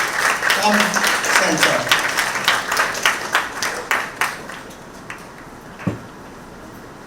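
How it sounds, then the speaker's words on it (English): An audience at a mayor's children's ball at City Hall breaks into applause, a burst of clapping that thins into scattered claps and fades, with a voice speaking briefly over it. "Give them a round of applause."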